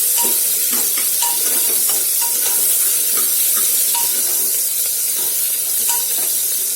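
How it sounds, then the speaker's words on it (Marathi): Onion sautés in a pan of crackling cumin and mustard seeds for a dal and eggplant dish. A dense, even sizzle continues throughout, broken by soft, regular stirring knocks. "जिरं मोहरी व्यवस्थित झाले की यात आपला कांदा टाकून कांदा छान परतून घ्यायचा"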